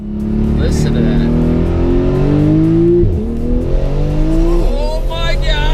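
A 2019 Porsche GT2 RS engine roars and revs hard, accelerating with a sustained, loud rising drone, then dips briefly and rises again, with exhaust burbles and crackles. Excited voices are faintly audible over the engine.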